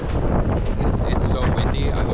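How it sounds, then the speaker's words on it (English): Heavy wind buffeting the microphone in downtown Charleston, South Carolina, a steady low roar throughout with faint voices underneath. "It's so windy."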